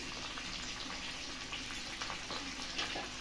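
Potatoes frying in a pan for dum aloo, a continuous soft sizzle with faint bubbling crackle, steady and fairly quiet throughout.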